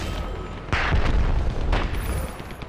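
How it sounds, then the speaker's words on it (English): A grenade detonates in the multiplayer shooter Dirty Bomb on the Trainyard map, a loud boom followed by a second blast a second later over a constant battle din. "Grenade out!"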